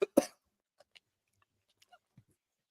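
A dog coughs up a piece of muffin in two sharp close hacks at the start, followed by a few faint small sounds in an otherwise quiet room.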